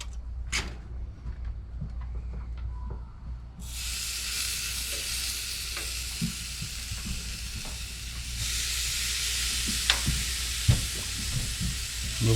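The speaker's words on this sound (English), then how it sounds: "Let's throw some shrimps on." Shrimp for buttery cilantro garlic shrimp hit a hot pan while cooking in an RV, and the frying jumps to a loud, continuous sizzle. A second surge follows later, with occasional pops and scrapes throughout.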